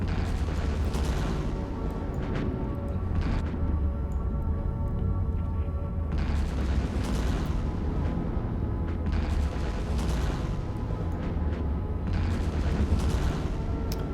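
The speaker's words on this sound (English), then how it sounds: "There they are firing at my research station." Ships in EVE Online fire weapons at a research station, producing repeated heavy booming bursts every couple of seconds over a rumbling background, with no talking.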